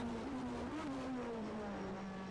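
A BTCC Super Touring race car engine in the racing game rFactor 2 drones loudly and continuously, its pitch climbing gradually with a rough, raw edge. No voices.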